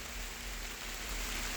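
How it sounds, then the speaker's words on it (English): Steady rain beginning to fall outdoors around a beekeeping hive inspection, a continuous broadband hiss with a low rumble, fairly even and close throughout. "It's starting to rain pretty good."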